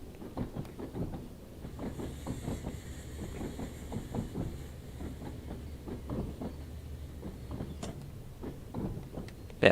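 Class 484 train running on the Isle of Wight Island line in Train Sim World 2, steady clickety-clack of wheels over rail joints with a low rumble and faint hiss, moderately quiet and continuous, no talk.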